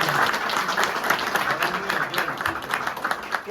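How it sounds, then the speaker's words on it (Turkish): An audience at an evening folk music gathering breaks into lively, dense applause, loud and fairly close, with the clapping flickering in strength and easing slightly toward the end. "bir alkış istiyorum sizden"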